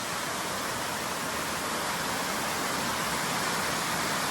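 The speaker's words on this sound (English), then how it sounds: "This is definitely the most busy I've ever seen this waterfall." A waterfall rushes in a steady, dense roar of falling water, constant and fairly loud with no breaks or voices.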